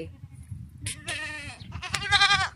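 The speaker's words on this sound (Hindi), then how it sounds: "देखो कैसे आवाज़ देता है मेरे से बोलता है वो बकरा" A goat on a village farm bleats twice in close succession, loud and near, each a quavering, nasal cry over quiet background rumble.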